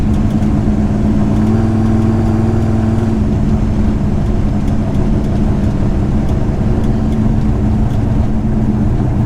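A Ford Falcon with a 331 V8 engine driving on a road, its steady loud drone and low rumble continuous throughout, with a shift in pitch early on as the engine changes load.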